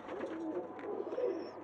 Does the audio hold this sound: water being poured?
no